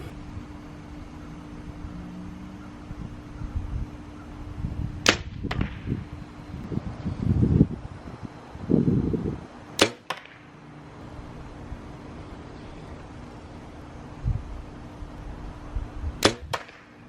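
Arrows from a Victory VAP TKO setup fly downrange at about 40 yards and strike the target in three sharp, well-spaced impacts, each a crisp snap, amid windy outdoor noise and soft handling sounds between shots.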